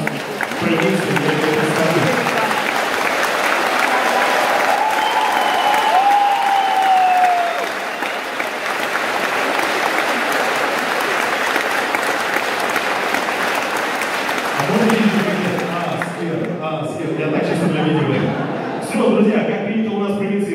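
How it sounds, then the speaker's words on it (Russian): Audience applause greets a stand-up comedian at a concert in Kotlas, steady and dense for about fifteen seconds, then fades as a voice begins speaking over the last stretch of clapping. "Давайте сейчас встретим нашего комика бурными аплодисментами."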